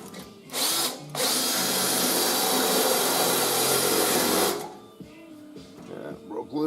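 A power drill grinds steadily through spot welds on a Triumph TR3 body panel, loud and close for about three and a half seconds before stopping, with a voice talking briefly afterward.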